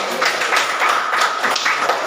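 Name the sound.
class hand clapping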